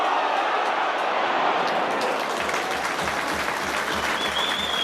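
Spectators at a Doncaster Rovers versus Reading Championship football match applaud, a broad, steady wash of clapping and crowd noise across the stadium with low rumbling underneath.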